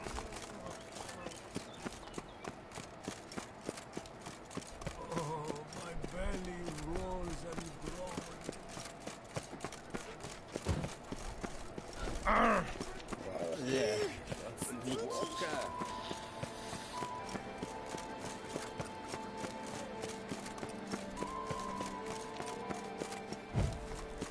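A horse's hooves clop steadily in the video game Witcher 3, running under a bed of game ambience and scattered voices, with a louder burst around the middle.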